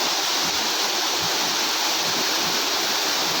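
A waterfall in a bamboo-shaded spot pours in a dense, steady roaring hiss, close and continuous with no pauses or other sounds.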